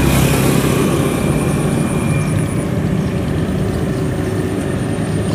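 A homemade Vietnamese tracked harvester with anti-bog crawler tracks runs with a loud, steady engine drone and mechanical rattle, close by, with a faint whine above the rumble.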